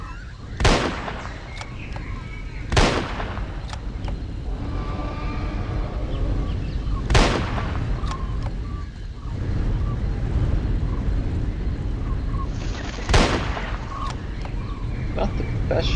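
Gunshots ring out in a Jurassic Park hunting video game, four sharp widely spaced reports against a rumbling ambient backdrop in a wooded area, with a voice talking in between.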